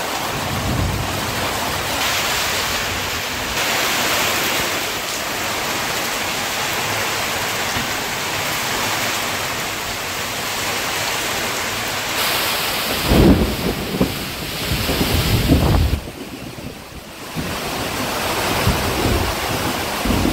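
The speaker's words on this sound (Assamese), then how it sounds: "প্ৰায় আধা ঘণ্টা হ'ব হ'ল নন ষ্টপ বৰষুণ দি আছে" Heavy, non-stop rain pours down with gusting wind, a loud steady roar broken by deep rumbles of thunder in the second half; no one speaks.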